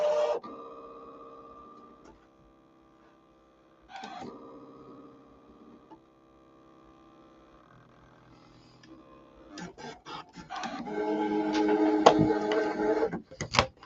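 A Brother ScanNCut cutting machine works on card paper: motor whirs and carriage moves come in separate bursts with pauses, then busy clicking, tapping cutting sounds build toward the end, all close and without talk.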